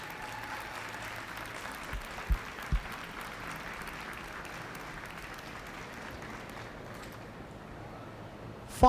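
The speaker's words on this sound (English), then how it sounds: "Give them a big round of applause when they do." Moderate, steady applause fills an arena at a 4-H/FFA dairy cattle showmanship contest as the senior champion showman is chosen. A couple of sharper claps stand out before the clapping thins out.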